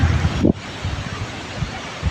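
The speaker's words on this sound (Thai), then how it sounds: "ลมแรงมากเลย" Strong wind gusts ahead of rain at a temple in Lampang, Thailand, roaring and buffeting the microphone with a heavy low rumble that eases after a moment.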